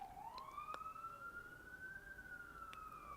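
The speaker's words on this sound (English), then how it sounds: "Sorry about the sirens." Emergency vehicle siren wailing outside, a single steady rising-and-falling tone held throughout at moderate distance, alone with faint background hum.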